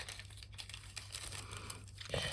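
A small plastic bag for a diamond painting tool crinkles and rustles in close, quiet handling, ending with a slightly louder crackle.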